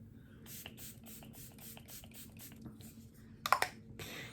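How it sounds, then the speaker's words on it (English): Rapid series of short, soft spritzes from a Tarte setting spray pump bottle onto a face, evenly paced and close, followed by a few faint clicks and a final longer spritz. "I'm going to set my face with some Stay Spray from Tarte."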